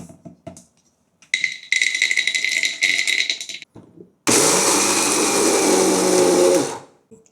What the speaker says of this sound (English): So I'll make use of the blender again.